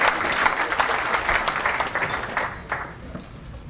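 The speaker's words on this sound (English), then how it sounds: "give him a round of applause." An audience at a National Service Association award ceremony breaks into applause, a dense wash of many hands clapping together that holds steady and then begins to thin out toward the end.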